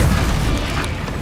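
Spell explosions boom in the video game Hogwarts Legacy: a heavy, rumbling blast fills the moment loudly and decays into a low roar.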